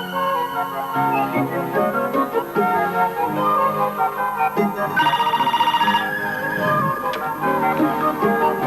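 A telephone rings in an old Pakistani television drama scene. A short electronic ringing burst sounds in the middle, set against melodic background music that plays throughout.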